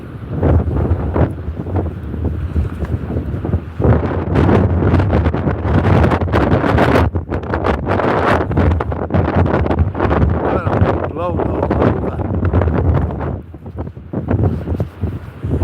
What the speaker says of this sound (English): If we didn't have this wind, it'd be really, really nice.